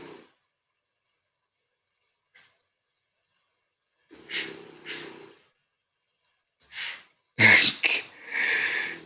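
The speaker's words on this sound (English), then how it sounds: "Can y'all hear my dog snoring right now?" A sleeping dog snores nearby in a quiet room, giving a few separate raspy, snorting breaths with long silent gaps between them, and no one talking.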